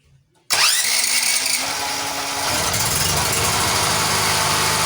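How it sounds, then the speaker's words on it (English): A Sumec Firman generator engine cranks and catches after a brief silence, then settles into a loud, steady running drone that continues alone. "turn the engine switch to the start position and hold it there until the engine starts"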